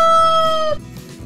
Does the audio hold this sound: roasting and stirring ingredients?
no